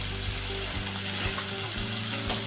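Banana flower vegetable with turmeric, garam masala and coriander powder being stirred in a hot pan, a steady close sizzle over a low rumbling hum, no talking.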